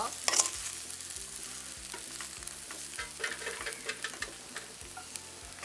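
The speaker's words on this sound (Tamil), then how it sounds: "நீங்கள் நல்லா குறைஞ்ச நெருப்பில் விட்டுட்டு கிளறி விடுங்க" Potato curry frying in a pan over low heat, stirred with a spoon: a steady soft sizzle with regular scraping strokes and faint clinks, close and alone, with no voices.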